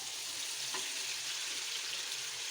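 Chicken pieces for chicken kadai fry in a pan, a faint, even sizzling hiss that holds steady throughout.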